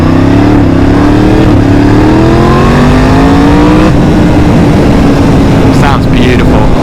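Motorcycle engine revving hard at full throttle as the front wheel lifts into a wheelie, loud and close with rising harmonic tones that climb then level off, wind noise throughout.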